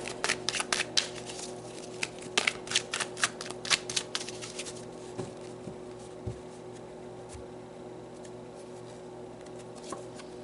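Tarot cards shuffled by hand in quick bursts of riffling and flicking, followed by softer, scattered card handling nearby, without any talking.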